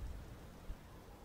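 Steady rainfall in the video game Elden Ring Shadow of the Erdtree, a soft continuous wash of drops with a low rumbling undertone, even and unbroken throughout.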